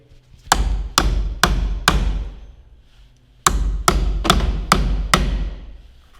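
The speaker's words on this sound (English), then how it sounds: "And then you got your hammer, and I like to hold it about midway." A hammer strikes a nail into an electrical box in two bursts of four sharp, evenly spaced blows, separated by a short pause, close and loud.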